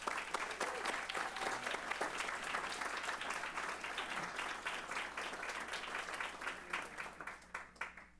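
A roomful of people applauds at a board meeting, sustained even clapping that carries on for several seconds before gradually thinning out toward the end.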